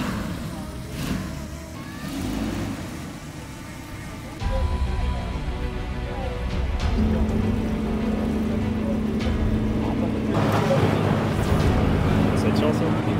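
Engine of a GMC DUKW amphibious World War II truck running steadily in water with the propeller engaged, a loud low drone that rises partway through, with someone talking over it.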